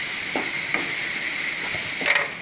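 Onion, garlic and dried chilli powder frying in a pan, a loud steady sizzle with a few soft scraping stirs, close up and without talking.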